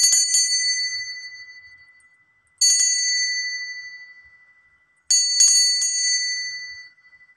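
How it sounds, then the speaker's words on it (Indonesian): A bright metallic bell strikes three times at even intervals of about two and a half seconds, each ring clear and close, then fading slowly before the next strike. "kita akan lanjutkan dengan lonceng berbunyi."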